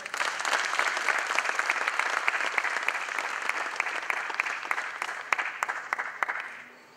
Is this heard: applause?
yes